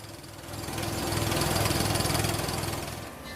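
A well drilling rig's engine runs steadily at a limestone bedrock site, a loud, close droning rumble with a fast rhythmic pulse that swells and then eases slightly, with no talking.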